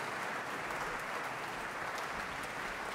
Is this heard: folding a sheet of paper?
no